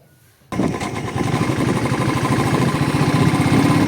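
A motorcycle engine starts up and runs steadily on a road on a ride toward Maithon Dam via Durgapur. Its low, throbbing rumble stays close and loud, filling the whole stretch after a brief quiet opening.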